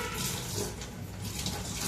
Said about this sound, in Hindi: चिंपी चिंपी के लोटे में पानी दीजिए।